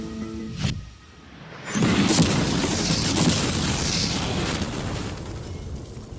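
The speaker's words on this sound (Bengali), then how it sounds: "বিস্ফোরণটা এত জোরে হয়েছে যে ভিতরের ম্যানিকুইন গুলো ছিটকে এদিক ওদিকে বেরিয়ে গেছে।" A normal car with mannequins inside blown up by an explosive charge: a sharp pop, a brief lull, then a heavy, sustained roaring boom with rushing debris that slowly fades, loud and close.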